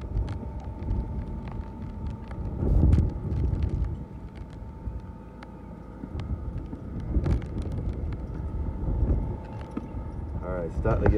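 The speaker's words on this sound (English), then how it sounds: "there's some gusts coming through now." Rough, blustery tropical storm wind from Tropical Storm Laura buffets the microphone in uneven gusts, rumbling low and swelling and fading over several seconds.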